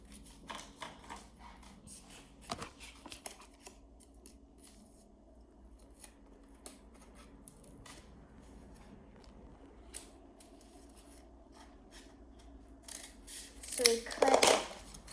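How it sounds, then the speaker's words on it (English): Scissors cutting cardboard flaps for a homemade cardboard desk, faint scattered snips and crinkles under quiet talk, ending in a louder burst of cutting and rustling. "we're gonna cut some flaps to cover it"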